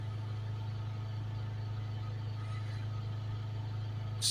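A Land Rover Discovery Sport 2.0d Ingenium diesel engine with a blocked EGR cooler and DPF, idling steadily with a low, even hum and no rise or fall in revs.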